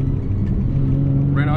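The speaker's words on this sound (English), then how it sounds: "I'm in the 350Z right now, just trying to get a couple clips of how it sounds from the inside" Nissan 350Z fitted with a Tomei exhaust, its engine droning steadily from inside the cabin as a low, continuous rumble, with a brief voice rising near the end.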